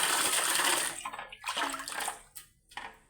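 Strong water flow from a tap in an old farmhouse gushes loudly for about a second, then breaks into uneven splashes as the flow tapers off.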